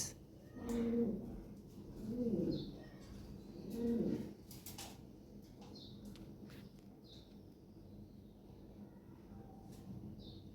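Lahore pigeons, including a big jumbo-size black pair, give three low rolling coos in quick succession close by, then fall quiet under faint background chirps and room noise.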